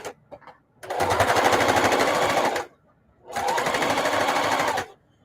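A sewing machine edge stitching a stiffened denim journal cover made from old jeans, running in two sustained loud bursts of rapid, steady needle chatter, each lasting about two seconds, separated by short pauses.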